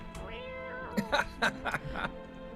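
A cat meows several times in the game No, I'm Not A Human, a few short, moderately loud calls in quick succession over a steady synthetic background hum.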